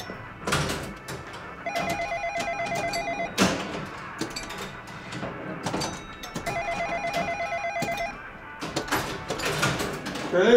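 A telephone rings in a domestic scene from an Argentine film. Two trilling bell bursts sound loud and near, mixed with clattering household noises and brief voices.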